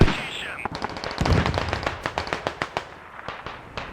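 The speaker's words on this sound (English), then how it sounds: "Interesting mortar there." Mortar fire in the tactical shooter game Squad: a rapid run of sharp explosive cracks and thumps, some dozen impacts in quick irregular rhythm, fairly loud and close, with a brief rumble early on.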